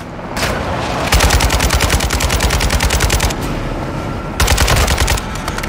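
Loud, sustained automatic gunfire from Call of Duty: Modern Warfare 2 on Veteran difficulty, dense rapid bursts that run almost without pause, with a brief lull before a fresh, louder volley near the end.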